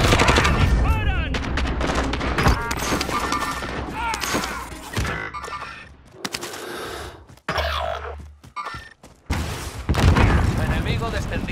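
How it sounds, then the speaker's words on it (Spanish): Rapid gunfire in the video game Warzone: repeated loud bursts and single shots with booming impacts, close and dense, with brief lulls and voices over the shooting. "¡Disparan!"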